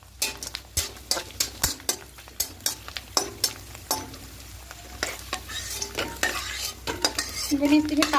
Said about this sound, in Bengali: প্রথমে আমি এখানে পাঁপড়গুলো ভেজে নেব